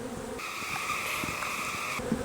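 Honey bees buzz at an open beehive during a spring hive inspection, a steady, moderately loud droning hum that swells in the middle and fades slightly at the end.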